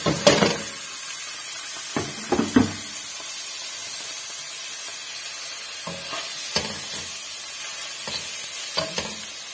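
Red onion frying in lard in a pan, a steady sizzle and hiss running throughout with a few brief stirring scrapes and clatters at intervals, no talking.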